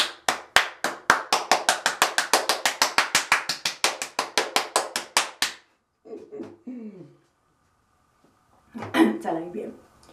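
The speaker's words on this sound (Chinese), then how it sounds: "掌声鼓励" Rapid, evenly spaced hand claps, about thirty of them, sound up close, then stop abruptly. Short bursts of voice follow after a pause.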